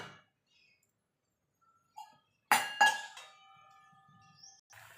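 A metal lid is set down on a cooking pan of masala for vegetable paneer butter masala, making a couple of sharp clanks with a brief metallic ring in an otherwise quiet kitchen.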